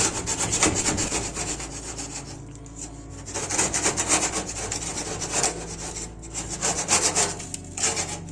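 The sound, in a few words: scraping grease off a dirty oven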